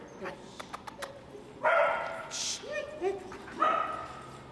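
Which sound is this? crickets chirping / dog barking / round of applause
dog barking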